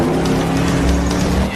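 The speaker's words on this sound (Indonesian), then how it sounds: "Jack terus saja ngebut dengan mobilnya berusaha mengejar bus bernomor 2525" A car speeding in a film chase after a bus, a loud close engine roar with a steady droning hum throughout a brief burst, no voices.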